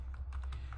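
A few quick keystrokes land on a computer keyboard while a command is entered, a short burst of soft, close clicks heard alone.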